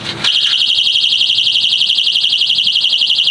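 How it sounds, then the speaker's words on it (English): A loud, continuous electronic alarm wails with a rapid warbling pulse, starting abruptly after a brief clunk and holding steady close by, from a catalytic converter anti-theft alarm under a Toyota Tundra. "My catalytic converter's got an alarm and GPS trackers built into them."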